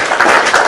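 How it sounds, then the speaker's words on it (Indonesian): A short, loud burst of applause from a church congregation, dense clapping filling the brief moment. "kasih tepuk tangan"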